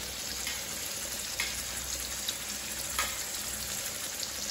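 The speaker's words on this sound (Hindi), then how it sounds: "अभी इसको मैं फ्राई करने के लिए रख देंगे।" Rohu fish pieces frying in oil in a pan for a Bengali fish curry, a steady broadband sizzle with faint crackles and pops, fairly quiet and continuous with no talk.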